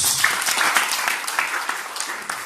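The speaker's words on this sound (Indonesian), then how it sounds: "Tepuk tangan bagi Yesus" A church congregation claps together during a sermon at a family blessing service, a dense, steady wash of hand claps filling the room without a pause for about two and a half seconds.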